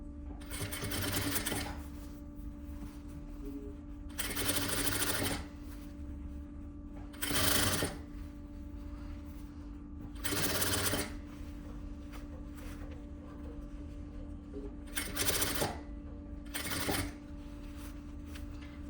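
Sewing machine stitching the armhole seam of a vest, running in six short bursts of rapid stitching separated by pauses with a steady background hum, close and clear.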